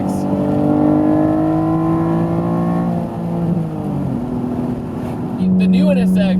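Honda NSX pulling a long run in second gear, a loud close engine note rising steadily in pitch, easing briefly, then climbing again, with a voice talking over it.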